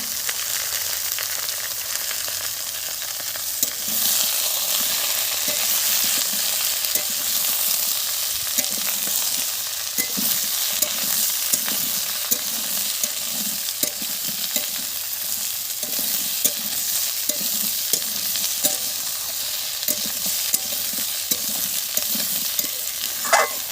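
Potato and drumstick pieces fry in a pan for a light fish curry as ridge gourd goes in, with a continuous sizzle and repeated rhythmic scraping of a spatula stirring the vegetables.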